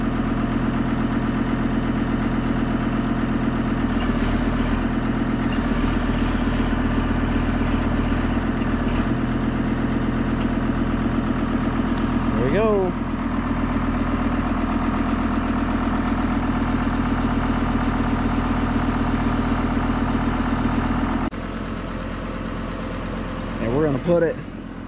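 A heavy tractor engine idles steadily with a low, throbbing rumble, close by, while fitted with a grapple for handling square bales, with occasional mechanical squeaks and a brief drop in revs near the end.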